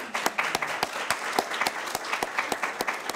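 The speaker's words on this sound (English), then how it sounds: "Let's give them a round of applause." Audience applause after a welcome speech at a university event, steady clapping from a sizable crowd with sharp individual claps standing out, continuous for the whole stretch with no talking.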